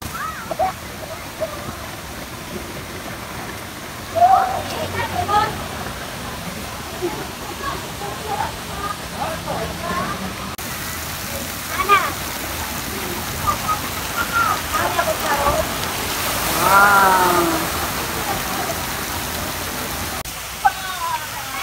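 Water dumped from a big rotating drum at a water park crashes down in loud splashing bursts over a steady rush of water, with crowd and voices throughout.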